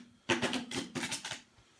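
Cards from the Five Tribes board game are shuffled up close in two quick, papery riffling bursts with a short pause between them.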